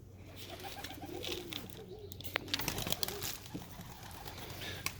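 Pet pigeons or doves fed corn and seed with molasses coo softly close by, low murmuring calls over a hum of background noise, with faint clicks and knocks.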